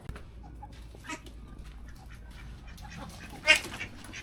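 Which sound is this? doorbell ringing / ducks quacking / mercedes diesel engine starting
ducks quacking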